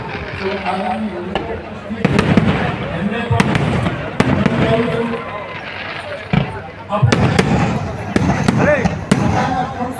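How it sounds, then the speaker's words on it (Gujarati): Firecrackers burst in rapid, uneven volleys of loud sharp cracks, going off close by at a temple anniversary festival in Bhaguda while a crowd and voices carry on underneath. "ફટાકડા કેમ ના ફૂટ્યા આ હવે ફૂટે"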